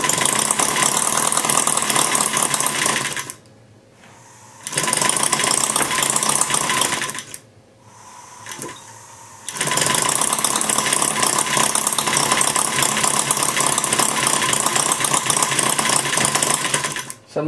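Maier TA4 engine running warm after a tuneup, a loud rapid mechanical clatter that cuts out briefly twice before resuming steadily.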